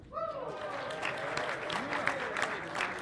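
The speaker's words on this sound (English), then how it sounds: "Let's give these 4 a big round of applause" Audience applause and cheering for the four finalists of a ringman competition at a livestock auction showcase, sustained clapping from a crowd with whoops over the top, steady and fairly loud throughout.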